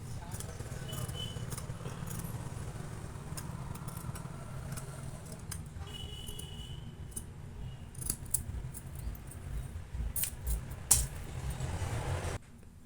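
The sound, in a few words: scissors cutting a V-neck into blouse fabric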